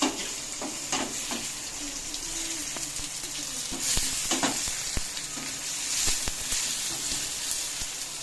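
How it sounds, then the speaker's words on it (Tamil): Vegetables sautéing a little at a time in a pan, a continuous close sizzle with scattered clicks and scrapes of a spoon stirring throughout. "அதனால கொஞ்சம் கொஞ்சமாக தான் வதக்கணும் கைஸ்"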